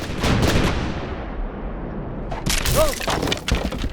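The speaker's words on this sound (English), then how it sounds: "British cannon opened fire at a rebel ship." Heavy booming blasts and crackling reports of British cannon firing at a ship, a dense burst at the start and another sharp volley later, loud and close.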